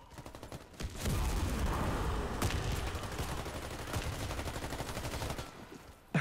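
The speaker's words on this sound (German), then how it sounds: "Das hier ist ein reines Rumgeballer. Mit der Shotty." Shotgun fire in the game Warface: a sustained loud barrage of rapid, dense gunfire with sharp repeated reports, running for about five seconds before cutting off.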